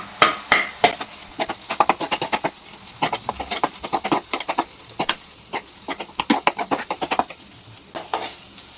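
Potato is mashed into cooked tomato and oil in a pan. A quick series of irregular squishing taps and scrapes from a utensil striking the pan carries on steadily and fairly close, with a light sizzle beneath.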